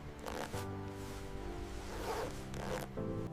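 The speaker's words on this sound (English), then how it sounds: "The zipper is carefully aligned. It ensures smooth functionality." A zipper on a camel wool jacket runs in quick rasping pulls during factory production, several strokes in steady succession, close and clear with no talking.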